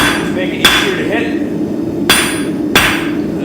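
Hot metal being forged into a taper on an anvil, three sharp, ringing hammer strikes spaced unevenly over a few seconds against a steady background roar, likely the forge.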